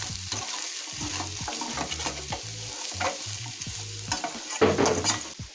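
Chicken fries in a pan with a constant sizzle, broken up by rhythmic scraping strokes of a stirring utensil, close and alone.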